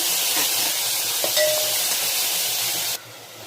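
Chopped fenugreek leaves sizzle in a pan with garlic and green chillies, giving a steady frying hiss that drops suddenly near the end.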